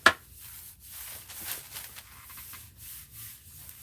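Paper pages of a book signature being trimmed into small wedges, with soft repeated scraping and rubbing strokes after a sharp initial tick, close and quiet, no talking.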